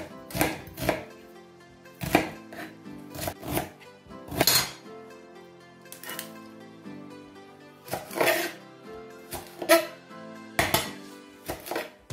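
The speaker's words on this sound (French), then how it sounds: "je vais maintenant couper les oignons et mixer pour venir mettre dans mon pot" Knife chopping onions on a board for a Congolese catfish maboke dish, a run of sharp, irregular cutting knocks in quick clusters with short pauses, close and clear with no talking.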